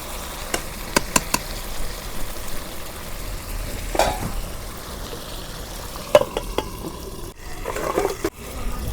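Chicken kosha cooks in oil in a karahi, a steady low sizzle heard up close under scattered scrapes and clinks from stirring, with no voices.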